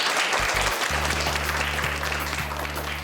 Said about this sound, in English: Give yourselves a really, really big clap.